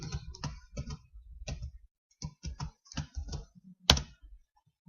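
Close, clear keystrokes on a computer keyboard while entering a MATLAB plot command, quick clustered taps with short pauses between bursts and one sharper final key hit.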